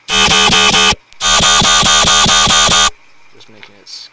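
A screaming bass synth patch built in Serum plays loud, buzzy, horn-like stabs in a quick repeated rhythm, pauses briefly, then plays a longer run and cuts off. Faint, distorted fragments trail after it.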